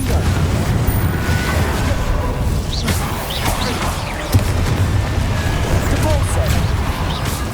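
A fiery Confringo blast spell in a Hogwarts Legacy battle bursts with a heavy boom over a dense, constant roar of combat effects, with more impacts following throughout.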